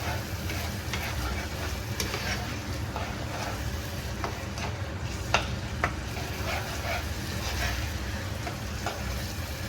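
A Kenyan fish curry with dark soy sauce simmers and is stirred in a pan, making a constant low sizzle with sharp intermittent utensil clicks, close up and without speech.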